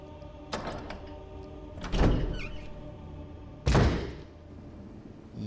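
A door opening in the Resident Evil Remake video game makes three separate heavy thunks with a sliding rattle, spaced a second or two apart and fairly close.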